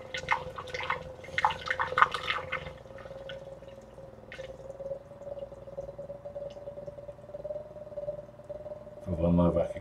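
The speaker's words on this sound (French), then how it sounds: "Il y a un bruit de la cascade" Water trickles and drips continuously from a small fountain, with a steady pump hum beneath and splashes near the end.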